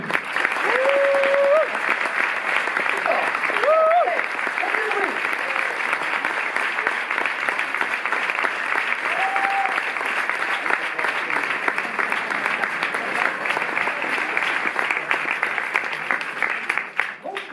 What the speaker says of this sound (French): Je vous demande d'applaudir Monsieur Michel Gondry.